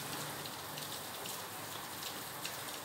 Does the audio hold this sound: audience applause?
no